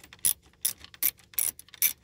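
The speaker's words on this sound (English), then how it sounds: "if you have the ratchet the same as mine, you can just do this," A hand ratchet clicks in five quick separate bursts while turning bolts during a brake controller install in a Ford F-150, close and fairly quiet, with no voices.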